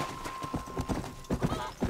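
Horse hooves in Red Dead Redemption, a short burst of close clip-clop beats in quick rhythm alongside a thin steady tone.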